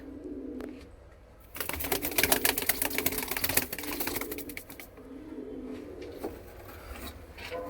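A Punjabi Malwai chatri pigeon handled up close, with a burst of rapid fluttering and scuffling in the middle, soft cooing and shuffling before and after.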